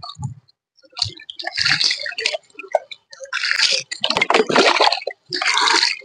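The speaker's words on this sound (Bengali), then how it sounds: "দেখেছো কি সুন্দর প্রভু স্নান করছে" A homeless man is bathed outdoors, with water splashing and pouring in irregular bursts, wet squishing and dripping between them, close to the microphone and loud.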